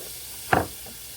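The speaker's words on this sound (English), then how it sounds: "Got some garlic. Just going to throw it into our pan." Garlic dropped into a hot frying pan, one brief close burst of sizzle over a steady background hiss, no talking.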